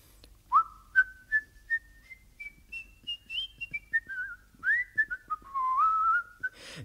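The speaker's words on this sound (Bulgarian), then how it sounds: "Винаги, когато нещата не вървят на добре, си подсвирквам." Someone whistles a slow, wavering folk-like tune, solo and close, with gliding notes rising and falling over a quiet background with soft clicks.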